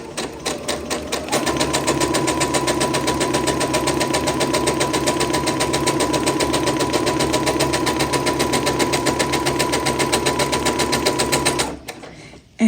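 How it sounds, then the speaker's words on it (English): A sewing machine stitches quilt block pieces for an Eccentric Star block in one steady, fast run, its close, even whirr starting after a brief pause and carrying on unbroken until it stops. "I'm just going to sew these all in one go."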